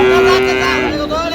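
At a bull market where farm bulls are bought and sold, one cow or bull lets out a single loud, close moo that lasts about a second and then fades.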